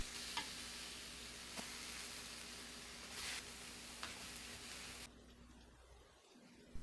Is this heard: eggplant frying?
yes